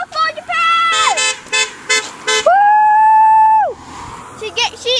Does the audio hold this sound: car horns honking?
yes